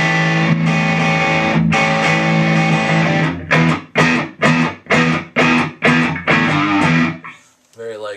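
Loud distorted Charvel Pro Mod So Cal electric guitar: a sustained crunchy chord rings out, then a run of short, choppy rhythmic stabs with brief gaps, ending in a fading tail.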